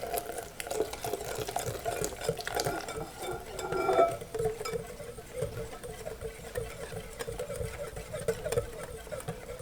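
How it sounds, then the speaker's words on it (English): Steady whisking of hot milk near boiling in a pan for a s'mores pie filling, a continuous scraping, liquid churning rhythm with a brief louder swirl partway through, close and moderately quiet. "milk is just about ready to boil, so I'm going to start whisking like that."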